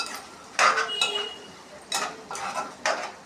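Spoon scraping and clinking against a pan while chili powder is stirred into fish curry, several distinct bursts of stirring with short pauses between, close and moderately loud, no talking.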